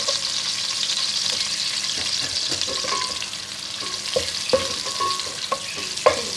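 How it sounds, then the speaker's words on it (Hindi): Almonds, raisins and coconut frying gently in hot ghee, a steady soft sizzle under stirring, with occasional sharp clicks and scrapes of a spoon against the pan, close and fairly quiet, without talk. "घी है, इसको हल्का सा हम फ्राई करेंगे।"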